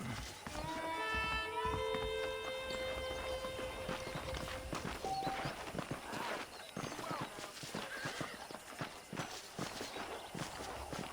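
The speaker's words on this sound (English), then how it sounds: "The horses are saddled up over here." Saddled horses in the Western video game Red Dead Redemption clop along at a steady walking pace, with a short whinny early on over a busy outdoor backdrop.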